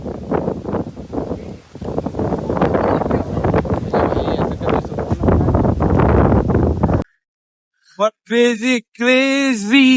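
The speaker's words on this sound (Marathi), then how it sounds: "वारा बघा कसला सुटलाय" Strong wind buffets the microphone in a heavy roaring rush for several seconds, then cuts off, followed by a short burst of speech.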